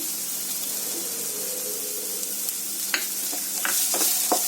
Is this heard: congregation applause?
no